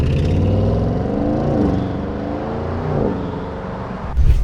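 An Audi RS6 C8 25th-anniversary edition rolls through the streets of Paris, its deep engine rumbling steadily throughout and swelling louder at the very end.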